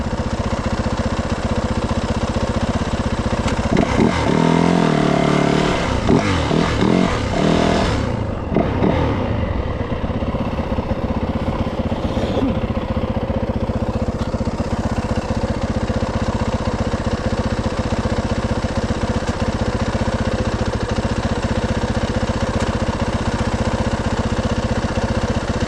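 A Can-Am Maverick 4x4 side-by-side engine idles with a steady, close mechanical drone, with some clattering handling noise early on and no talk over it.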